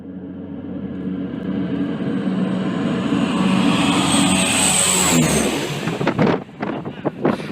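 An airplane lands on a short runway, its engine roar building to a steady loud rush, then cutting into choppy bursts and thumps near the end.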